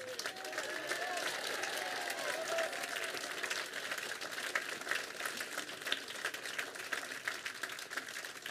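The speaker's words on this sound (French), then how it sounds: "Vous pouvez de nouveau applaudir les élèves de l'option théâtre du lycée Paul Pinlevé, sous la direction de leur professeur Vaness" Audience applause at an 11 November 2018 commemoration in Oyonnax, honoring high school theatre students. Steady, dense clapping from a large crowd, fairly distant and even, lasting throughout with no pauses.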